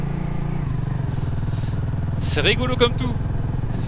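A vintage BSA Gold Star single-cylinder motorcycle engine chugs and pops with a steady rhythmic thump, close by, while someone speaks briefly over it.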